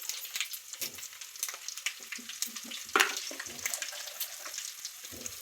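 Bitter gourd sizzling in hot oil in a pan with crushed garlic and curry leaves, a steady close frying crackle with scattered pops and a few stirring scrapes, no voices.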